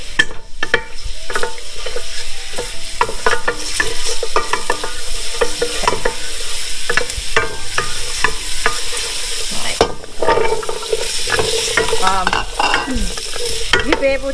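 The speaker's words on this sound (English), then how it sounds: "I'm just gonna put some garlic in here. And as you can see, I don't have to wait for the oil to heat up." Garlic hits hot oil in a pot for vegetable soup with a loud, close, continuous sizzle, broken by scraping and stirring clatter throughout.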